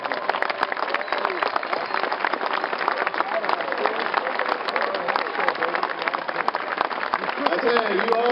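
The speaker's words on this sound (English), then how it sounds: "So all of you give him a great big round of applause." A crowd at a San Jose State University commencement applauds the university president, a dense, crackling wall of clapping lasting several seconds, with crowd voices mixed in.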